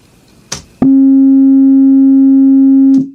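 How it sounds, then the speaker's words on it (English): A steady, loud sine test tone at 45 hertz plays through a small homemade tuba-style home theater subwoofer, holding for over two seconds after a brief click and starting thump, then cutting off. "Let's do 45 scaled hertz next. This is the one where the sine wave is a bit slanty."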